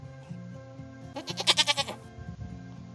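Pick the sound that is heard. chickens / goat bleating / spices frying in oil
goat bleating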